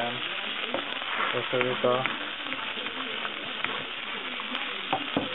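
Liver frying in a pan, a steady broad sizzle running throughout, with a few stirring clatters and someone talking over it.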